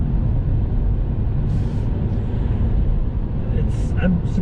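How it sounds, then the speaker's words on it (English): Steady, broad road roar fills the cabin of a 2020 Fiat 500, with tire noise coming from the rear wheels as a constant low rumble and no breaks. "There's some tire noise from the rear wheels"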